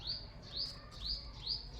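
Four short, high sparrow chirps at a nest, spaced evenly about half a second apart, bright and fairly close over a low background hum.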